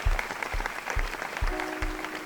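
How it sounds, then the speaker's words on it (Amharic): An audience applauds at an evening honour ceremony in the Addis Ababa University cultural centre, with steady, dense clapping that runs throughout. "አንድ ከፍ ይበል ጭብጨባው።"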